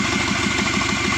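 Close by, the 2.5-liter EJ255 turbo engine of a Subaru Forester SG9 idles warm and steady, a brief stretch of even, pulsing low rumble with no voices.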